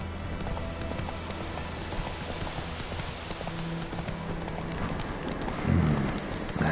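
A horse gallops in The Witcher 3: Wild Hunt, a steady, fast clip-clop of hooves running continuously up close over a dense background of game ambience, with no talk.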